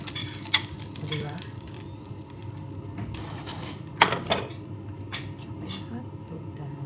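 Hotdogs fry in a pan with a steady sizzle, with occasional stirring scrapes and utensil clinks against the pan, close by and without talk.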